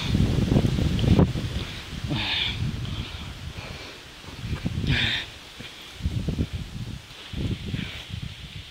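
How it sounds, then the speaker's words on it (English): Gusty wind buffets a microphone on the Rock Top Trail at Crowders Mountain, loud rumbling bursts that rise and fall in waves with quieter lulls between them. "Still windy."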